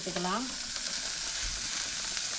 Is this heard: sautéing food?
yes